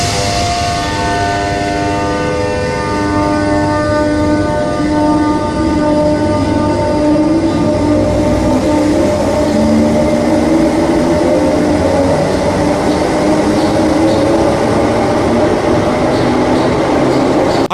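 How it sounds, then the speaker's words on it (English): A 1980s-built Class 319 electric train runs through a Thameslink core tunnel, its electric motors whining loudly with rising and falling tones over a steady, roaring rumble that never lets up. "seeing a 1980s built train like the Class 319 thrashing its electric motors through the Thameslink core"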